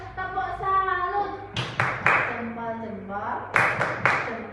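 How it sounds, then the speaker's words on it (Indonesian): Children's voices chant the Indonesian "tepuk salut" clapping routine with bursts of sharp group clapping, several quick claps landing together in a rhythmic pattern amid the talk. "Ada yang tepuk salut? Tepuk salut."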